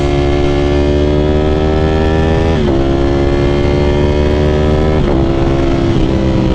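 A Ducati Panigale V4 SP2 with a BT Moto Stage 2 ECU flash, ridden at sunset, drones loud and close with a steady engine note that climbs through the gears, dipping briefly at shifts around the third and fifth seconds.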